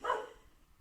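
A dog barks once just outside a window, a single sharp bark that quickly fades, heard alone.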